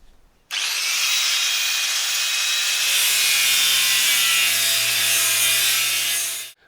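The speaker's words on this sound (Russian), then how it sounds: "Все лишнее отрезаем." A power saw cuts away excess metal stock in a workshop, a loud sustained whining grind that starts abruptly, holds steady with a rising tonal hum partway in, and cuts off sharply at the end.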